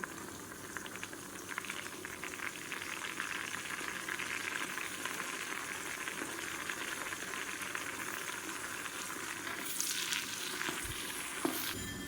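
Onions fry in oil for mutton biryani with a steady, crackling sizzle that continues throughout, close and moderately loud, with no talking.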